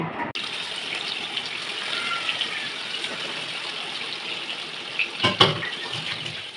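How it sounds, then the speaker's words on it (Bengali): Steady broadband sizzle of catla fish pieces frying in hot oil in a wok, continuous and fairly loud, with a few brief louder crackles near the end. "মাছগুলোকে দুপাশ উল্টিয়ে একটু লাল করে ভেজে নেব।"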